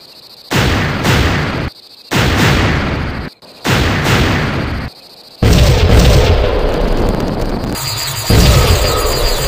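An artillery gun fires in a War of the Worlds audio drama. Three heavy booms land a second or two apart, followed by a sustained rumbling barrage, all loud and close.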